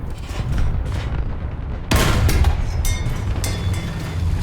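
Tank cannon fire from a Crusader III in the War Thunder video game: a sudden loud boom cuts in at about two seconds over a steady engine rumble, followed by crackling debris and echo.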